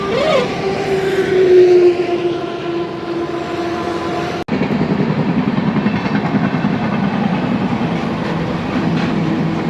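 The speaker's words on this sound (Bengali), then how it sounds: "তোমরা দেখতে পাচ্ছ সামনে ট্রেন লাইন যা ট্রেন ক্রসিং হচ্ছে যা খেমাশুলি স্টেশন ক্রসিং করবে" A train crosses on the railway line near Khemashuli station, a loud continuous rumble with rhythmic wheel clatter and a drawn-out tonal whine early on, heard alone without talk.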